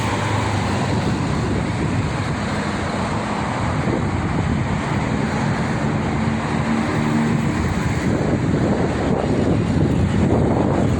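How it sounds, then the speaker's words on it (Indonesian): Strong wind gusting on the Jakarta–Cikampek toll road at KM 57. It roars as a steady, broad rush over the microphone, blended with a constant low rumble of passing traffic. "Anginnya gede, anginnya gede."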